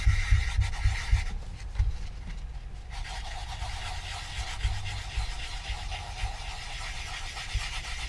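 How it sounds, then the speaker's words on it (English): Coarse sandpaper rubs against a large chunk of wood being shaped into a pilot figure, a close, continuous raspy scratching with uneven strokes. "For this, I'll use a little bit coarser sandpaper since we got a lot of shaping to do."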